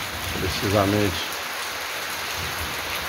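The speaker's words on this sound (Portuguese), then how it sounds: "Tardezinha com chuva" Steady afternoon rain falls over a rural backcountry area in Brazil's Northeast, a continuous even hiss throughout while someone speaks briefly near the start.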